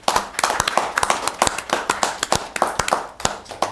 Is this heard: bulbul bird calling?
no